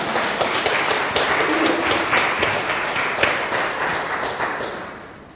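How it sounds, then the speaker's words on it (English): A church audience applauding after a drama, a dense patter of many hands clapping that holds steady and then gradually fades away, with no voices over it. "Let's clap."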